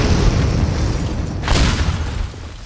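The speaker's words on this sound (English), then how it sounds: "Oh that was a bomb, not a stink bomb." Bomb detonating in the video game Teardown, a loud booming blast with rumbling debris, and a sharper burst surging midway before the roar fades.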